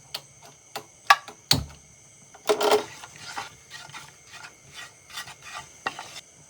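Spoon scraping and stirring fish roast masala ingredients in oil, with irregular clinks, rubs and soft sizzling bursts close up, alone without talk.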